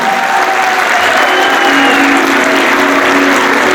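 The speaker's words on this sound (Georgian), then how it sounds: "უფრო მხურვალე აპლოდისმენტები ეკუთვნის ამ ხალხს" Concert audience at a solo show by a choreographic dance ensemble, loud continuous applause filling the whole moment from a large crowd, with no pause or break.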